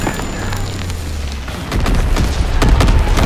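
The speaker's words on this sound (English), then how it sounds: "Dropping incendiary." Incendiary bomb blasts from a bomber run in the World War II shooter Call of Duty WWII, a loud sustained rumbling boom that swells midway into heavy crackling, fiery bursts.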